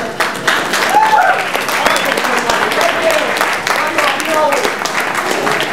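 A live audience at a 2009 West cultural series event gives a sustained round of applause for a performer named Attila, dense clapping filling the room steadily throughout with a few voices and cheers mixed in.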